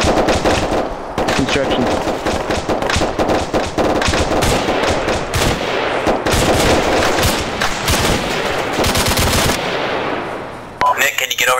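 Arma 3 co-op combat with the JSRS 2.0 sound mod: loud, sustained machine-gun and rifle fire hammering almost without pause, dense cracks layered over one another as a player speaks briefly over the din before it drops away.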